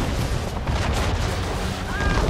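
Ship cannons firing in a naval battle in Assassin's Creed 3, heavy booming blasts layered with rumble and game noise, loud and close.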